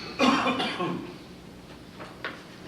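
A person coughs a couple of times in a room, harsh and fairly close, followed by quieter noises and a short sharp sound.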